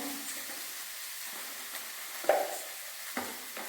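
Tomatoes and turmeric fry in a pan for a mushroom masala curry, giving a soft, steady sizzle with a few light utensil clicks against the pan.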